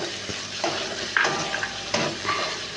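Tomato and chopped green chillies sizzle in a pan while being stirred, a steady frying hiss broken by a few scraping strokes and light spoon clinks, close and alone.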